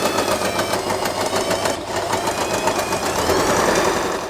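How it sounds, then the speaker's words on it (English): Sewing machine stitching along the edges of jacquard fabric for a big hair bow, a steady fast mechanical whir and rattle, close and loud throughout with no speech. "we are going to sew this part"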